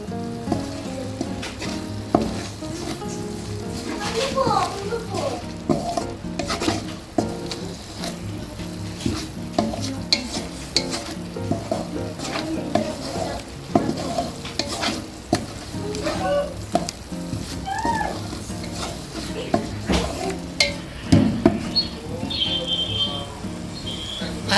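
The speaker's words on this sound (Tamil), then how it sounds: "சிம்மில் வச்சு நல்லா வதக்கிங்க." Masala for mutton dum biryani sautéing on a low flame, with a steady soft sizzle and frequent scraping and clinking stirring strokes close by.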